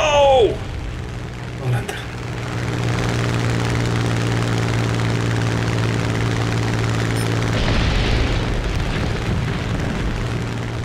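A propeller fighter plane in War Thunder drones steadily with a sustained engine hum, after a brief whistling sweep and a sharp burst at the start, and someone talks over it at times.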